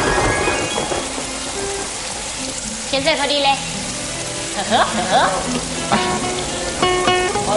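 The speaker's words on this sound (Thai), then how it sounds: "ดูสิครับ ฝนตกใหญ่เลย" Heavy rain falling outdoors, a dense hiss of pouring drops that runs continuously, while a voice speaks and sighs briefly over it.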